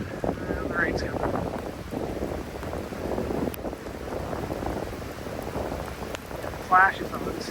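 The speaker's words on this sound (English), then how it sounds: "The rain's coming." Steady rain pattering on a surface with some wind noise, continuous and fairly close, with a couple of brief higher sounds over it.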